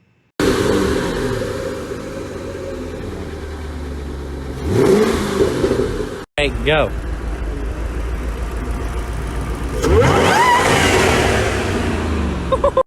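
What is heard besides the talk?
Mazda Miata engine revving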